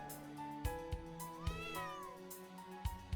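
A cat in the game Trails of Cold Steel 3 gives a clear rising-and-falling meow near the middle, set against soft background music with light rhythmic taps.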